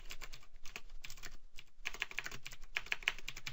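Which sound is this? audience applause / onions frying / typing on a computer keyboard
typing on a computer keyboard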